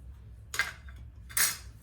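A small spatula scrapes chocolate cake batter from the sides of a mixing bowl in two short, close scraping strokes with a quiet pause between them and no talking.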